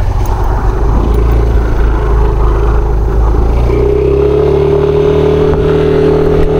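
Yamaha NMAX scooter engine hums steadily while riding, a close, loud low drone with wind rush that rises in pitch as it accelerates in the second half; no talking.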